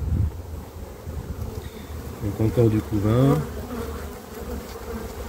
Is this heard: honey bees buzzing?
yes